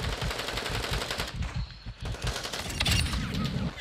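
Rapid machine-gun fire in the shooter game Warzone, a loud continuous rattle of close shots with a brief dip in the middle before the firing picks up again.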